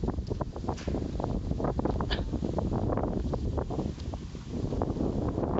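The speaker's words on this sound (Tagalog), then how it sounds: "So sobrang hangin, no? Napakalakas." Strong gusts sweep across an open rice field, buffeting the microphone with a continuous rough, roaring rush that stays loud throughout.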